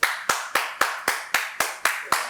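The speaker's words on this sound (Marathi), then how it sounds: "झाले टाळ्या वाजून?" Several people clap together in a steady, even rhythm, about nine sharp claps in two seconds, close and fairly loud with no talk over them, on the set of the reality show Bigg Boss Marathi season 6.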